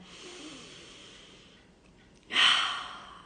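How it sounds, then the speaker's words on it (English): A slow, deep breath drawn in during a guided breathing exercise, soft and steady at first, then swelling into a louder, airy rush near the end, close to the microphone with no talking. "Let's do one more deep breath in."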